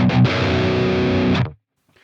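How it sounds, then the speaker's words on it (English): Electric guitar played straight into a Helix Badonk amp model, a heavily distorted, loud chugging metal tone with a short stab followed by a sustained chord that cuts off abruptly into silence. "here's the guitar going straight into Helix's Badonk amp"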